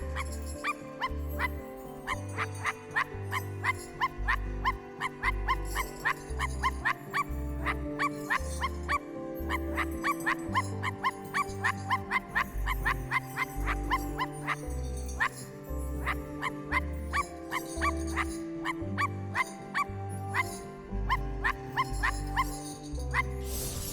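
Sparky the dog in the video game I Am Dead, yipping and barking in short bursts over a steady, rhythmic game soundtrack with a pulsing low beat.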